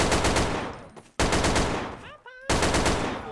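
Rapid automatic gunfire from the Trouble in Terrorist Town video game, loud dense bursts that break off briefly and resume, with a short burst of in-game chirping sounds in the gap.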